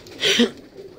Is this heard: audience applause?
no